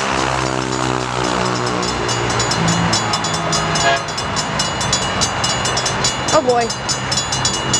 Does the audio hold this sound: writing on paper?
no